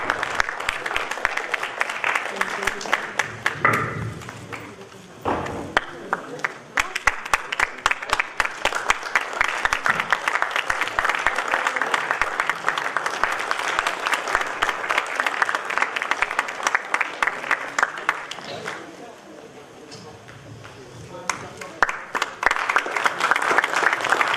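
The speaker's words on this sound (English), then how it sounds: "I would like to invite, with a thundering round of applause, our conference convener, Mukesh Thakur, to felicitate Dr. Punita and" A thundering round of applause rises from the audience at a Toastmasters conference gathering, dense clapping with distinct sharp claps running for over twenty seconds, dipping briefly a few times before swelling again.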